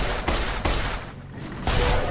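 Gunfire in the video game Fallout: New Vegas: three loud, sharp bursts of shots, evenly spaced and close, with brief dips in between.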